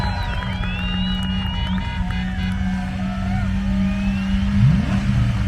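Engine of an off-road vehicle in a recovery competition at an outdoor off-road games event, droning steadily with a low rumble and a brief rising rev near the end, under distant crowd noise and whistles.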